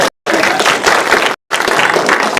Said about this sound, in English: everyone will be giving you a huge round of applause for that